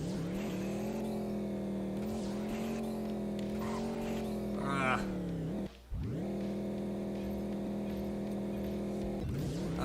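Car engine in a racing video game lap, a loud continuous high revving drone that holds steady, dips briefly for a gear change or lift around the middle, then climbs again, with faint talk over it.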